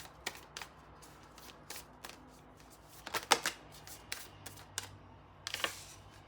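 Tarot cards shuffled by hand, soft riffling and flicking bursts in irregular clusters, fairly quiet and close, with brief pauses between handfuls and no talking.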